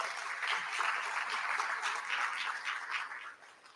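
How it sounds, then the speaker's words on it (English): A breakfast event audience claps for its community sponsors, a lively, fairly even round of many hands that fades out toward the close. "Can we give them a big round of applause?"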